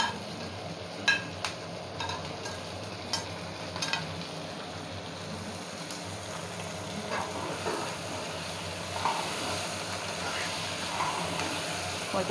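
Chopped tomatoes cooking in a pan with onions for a meat dish, a low steady sizzle with occasional sharp clicks and stirring knocks throughout, no talk.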